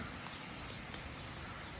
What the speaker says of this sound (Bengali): আবার বৃষ্টি চলে এসেছে জোরে জোরে